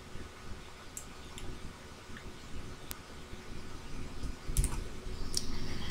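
Computer mouse clicks sound faintly and sparsely, a few light ticks spread over quiet room noise at a desk while shapes are selected in a presentation program.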